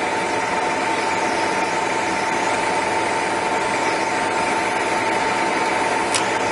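The table power feed of an Elite milling machine with a 54-inch table runs at its fastest rate, giving a steady, loud mechanical whir with a constant tonal hum and no speech.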